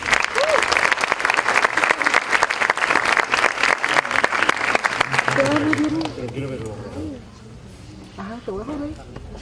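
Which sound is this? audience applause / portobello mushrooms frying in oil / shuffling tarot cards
audience applause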